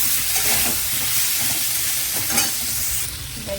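Eggplant pieces rubbed with salt and turmeric fry in hilsa fish oil, giving a steady, loud sizzle with bursts of spattering and stirring scrapes, no voices.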